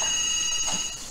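A telephone rings steadily, a bright electronic ringing tone that sounds clearly and continuously on its own, close and fairly loud, with no voices over it.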